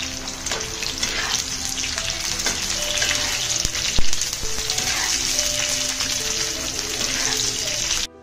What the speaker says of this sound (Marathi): त्याचप्रमाणे कोथिंबीरीच्या ज्या काड्या होत्या त्याही मी इथे खोबऱ्यासोबतच भाजून घेणार आहे.